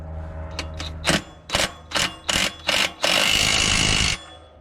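A ratchet or power driver tightens a bolt on a Segway Villain clutch kit, giving a run of quick mechanical bursts that grow into a longer continuous whir before stopping.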